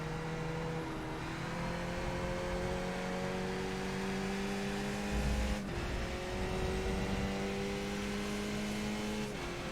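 A race car in the iRacing sim engine drones steadily at high revs, dropping pitch sharply as it brakes hard into a corner, then climbing again through the gears, a continuous loud in-car engine tone.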